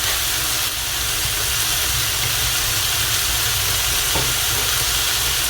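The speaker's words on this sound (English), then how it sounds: "So I'll put in some oil in the pan, just a little bit of it" Oil heating in a non-stick pan before chicken is fried, giving a loud, continuous hiss and sizzle that holds steady and close throughout with no talking.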